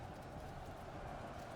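Cavalry hooves clip-clop steadily in a strategy video game as a horse guard unit moves. The dense clatter runs without a break under general battle noise, with no talk.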